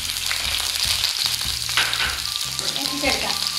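Ginger and garlic fry in hot oil in a pan for a Kerala-style fish curry, a loud steady close sizzle broken by repeated scraping stirs.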